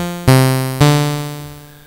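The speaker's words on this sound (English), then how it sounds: "it's going to come up with a default sound, which is a square wave" Default square-wave patch of the Tela modal synthesizer plugin by Fors, with its impulse component: two bright, buzzy harmonic notes, each struck sharply and then decaying slowly, the second entering just before the midpoint.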